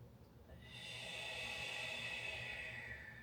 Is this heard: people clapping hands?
no